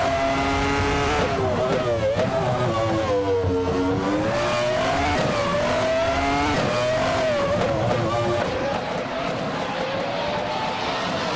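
A Williams FW18 and rival Formula One cars in a racing video game, with a loud, continuous engine whine that rises and falls in pitch through gear changes and revs, close and unbroken, with no speech.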